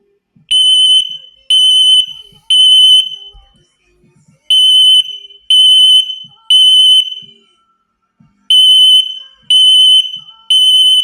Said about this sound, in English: So that's the fire sound, just like the other accepted temporal 3